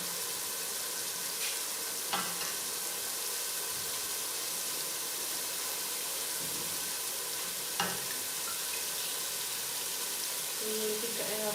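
Paya trotters go into a ghee masala gravy that fries steadily, a soft continuous sizzle with a couple of sharp clinks and a faint splash toward the end, with no one talking.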